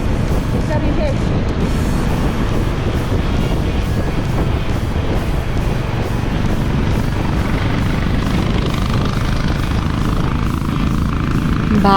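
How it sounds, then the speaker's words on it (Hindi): A Honda CB 350 motorcycle runs steadily while being ridden, its low, throbbing engine rumble buried under heavy wind roar against the microphone, continuous and close, with people talking over it. "भाई ये गाड़ी की आवाज़, ओह मक्खन है बिल्कुल, इतनी सुंदर आवाज़ है।"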